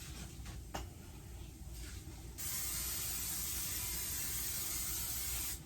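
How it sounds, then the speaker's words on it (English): Great Value extra virgin olive oil cooking spray hisses into a pan, a steady close spray lasting several seconds after some quieter handling sounds. "I'm going to spray with cooking spray. I'm using olive oil, extra virgin olive oil cooking spray"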